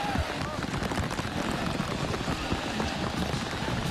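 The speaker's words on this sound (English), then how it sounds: "Look at the rain." Rain falls during a college football game between Michigan and Notre Dame in the video game NCAA Football 2008, a steady, dense hiss under crowd noise, with a commentator talking over it.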